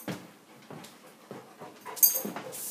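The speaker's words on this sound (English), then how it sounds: "Jake, this is my dog." A dog pants in short, rhythmic bursts and gives a few soft whimpers, fairly close and moderately loud, with a sharper yelp-like burst near the end and no talking.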